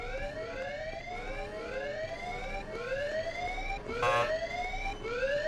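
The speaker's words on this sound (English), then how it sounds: "Where's the alarm?" A wailing alarm siren from Hitman 2: Silent Assassin cycles up and down in repeated rising sweeps, steady and moderately loud, with a short burst of other game noise near the end and no talking.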